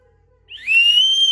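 A small plastic toy whistle from a Kinder Joy egg is blown once after a brief near-silence, giving a loud, shrill, sustained tone that slides upward and holds, close to the microphone.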